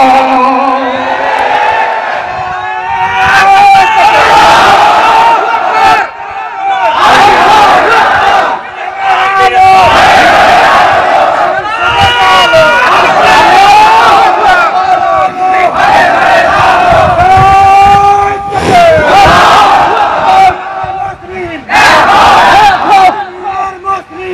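A large crowd at a religious-political rally roars slogans in unison, loud sustained chanted shouts rising and falling in waves over about twenty-four seconds, with a single voice leading between the responses.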